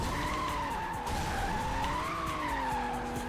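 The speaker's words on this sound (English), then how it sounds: "there's a prime example of not putting enough angle into the drift" A car drifting with tires skidding in the Hot Wheels World Race video game: a continuous, wavering tire squeal over a steady engine roar, loud and unbroken throughout.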